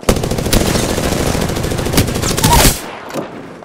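Rapid automatic gunfire in the Apex Legends video game, a loud sustained burst of close shots that stops abruptly, followed by a couple of fainter thuds.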